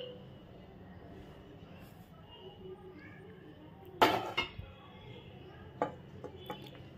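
A lid clanks onto a pan of egg dosa with one sharp metallic clink, followed by a couple of lighter taps, close by over a quiet kitchen background.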